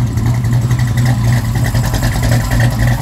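A 6.2-liter SRT Demon muscle car with a plexiglass engine cover rumbles steadily at a loud, close idle, with a deep, sustained engine drone throughout.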